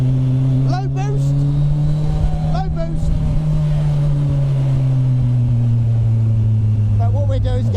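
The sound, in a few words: Hayabusa turbo bike engine in MK Indy car driving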